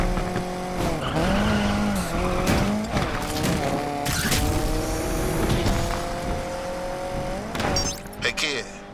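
Engine drone and tire squeal from a Lamborghini Countach racing in Need for Speed Unbound, a steady loud engine tone with pitch shifts and skids, overlaid by game music and talk throughout.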